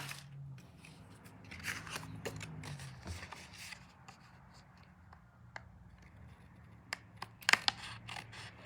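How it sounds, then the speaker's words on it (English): Scissors snip and trim the edges of a paper craft tag at close range, giving a few soft cutting and scraping sounds over a low background hum, with a sharper cluster of snips near the end. "I'm going to trim these edges off."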